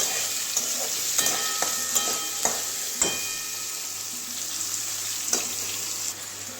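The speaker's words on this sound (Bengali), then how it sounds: "আলুটাও হালকা ভেজে নেব একটু হলুদ দিয়ে দেবো" Potatoes fry lightly with turmeric in a pan, giving a continuous hissing sizzle broken by scattered sharp clicks and scrapes of a spatula stirring.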